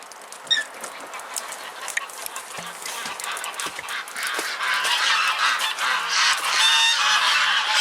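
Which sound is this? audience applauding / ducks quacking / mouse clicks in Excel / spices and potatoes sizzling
ducks quacking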